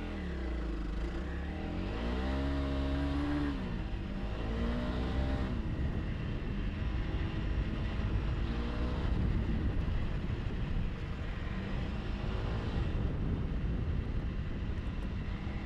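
A lightweight adventure motorcycle, a BMW G 310 GS or Honda CRF300L Rally single, pulls away in second gear, its engine note rising and stepping through revs close by and loud, then settling into a steady run with wind noise.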